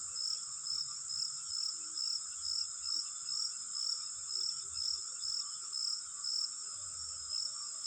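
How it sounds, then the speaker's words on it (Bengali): Crickets chirping on a quiet night in a cartoon: a faint, steady, pulsing trill repeating at an even rhythm, alone with no other sounds. "দূর থেকে ঝিঝি পোকার আওয়াজ শোনা যাচ্ছিল।"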